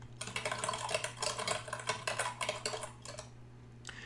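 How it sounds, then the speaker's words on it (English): Rapid clicking of keys on a computer keyboard as code is typed, a steady run of close, light taps in quick bursts, fading out near the end with a last few isolated clicks, no voices. "You'll be using your keyboard and you'll be typing something up in code like this."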